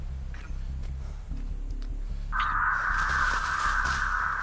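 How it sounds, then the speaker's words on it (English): Crows caw in the swamp setting of the video game Dead by Daylight, a steady harsh cawing that rises over quiet game ambience partway through. "So I just alerted the crows already."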